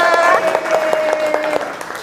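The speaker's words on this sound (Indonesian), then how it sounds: "Tepuk tangan buat kita semua." A classroom of high school students claps together in a short, lively burst of applause, close and fairly loud, with a few quick sharp claps and voices mixed in.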